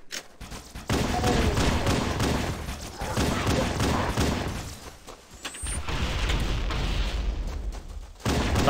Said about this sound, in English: That was some explosion.